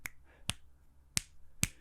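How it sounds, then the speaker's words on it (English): Four sharp, close finger snaps spaced roughly half a second apart, each a crisp isolated crack against quiet background. "Just snap your fingers."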